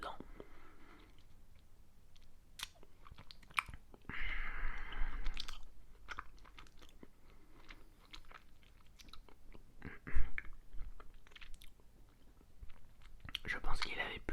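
Pink Disneyland Paris candy is bitten and chewed close to the microphone, with crunchy bites and sticky chewing, and soft whispered speech between the mouth sounds.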